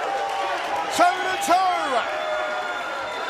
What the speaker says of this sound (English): This crowd going bananas here at Hy-Vee Hall